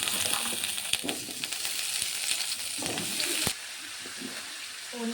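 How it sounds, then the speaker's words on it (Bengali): Cauliflower, potatoes and peas frying in hot oil, a continuous crackling sizzle with scattered sharp pops that drops slightly in level partway through, with no talking. "প্রথমে আমি ফুলকপি আলু আর কড়াইশুঁটিগুলো ভেজে নেব।"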